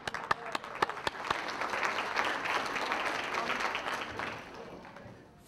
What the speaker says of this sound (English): Let's start with an applause.